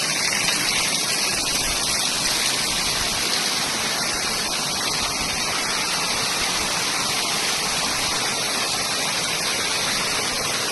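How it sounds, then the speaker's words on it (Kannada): Water fed from Himalayan snowmelt pours through the 108 cow-head spouts at Muktinath temple in Nepal's Annapurna region, a dense, steady rush of splashing flow that stays loud and unbroken throughout. "ಮೇಲ್ಗಡೆ ಹಿಮಾಲಯದ ಬೆಟ್ಟದಿಂದ 108 ಧಾರೆಗಳಾಗಿ ಗೋಮುಖದಿಂದ ನೀರು ಬರುತ್ತೆ"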